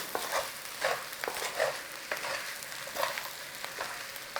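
Food with potatoes stirred in a small tin over heat, quiet rhythmic scraping strokes repeating about every half second over a faint sizzle, close and without talk.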